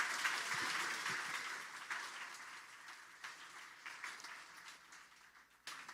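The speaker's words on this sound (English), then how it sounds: "giving our finalists a big round of applause" Steady applause from a sizable crowd at the Australian Photography Awards ceremony, clapping blending into a broad wash that gradually thins and fades, with a brief renewed burst near the end.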